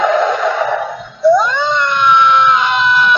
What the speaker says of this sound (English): He's screaming.